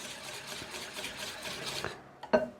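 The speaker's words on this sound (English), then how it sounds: "We are going to mix them together." A spoon works vanilla cake batter ingredients together in a bowl, producing continuous soft rhythmic scraping and rubbing up close, ending with a couple of small clinks against the bowl.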